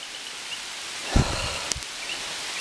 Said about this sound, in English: I better get this camera out of the rain.